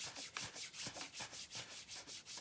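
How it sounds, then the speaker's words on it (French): A hand rubs briskly over a bare foot during a self-massage, a soft rhythmic swishing repeated in quick regular strokes, faint and close with no talking. "Je frotte."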